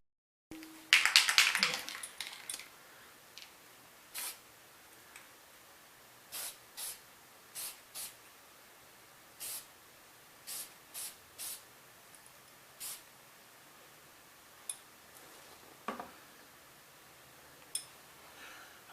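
A Hot Wheels Camaro gets red candy paint from a spray can, opening with a long hissing burst and then short sharp spray puffs at irregular intervals, close and clear.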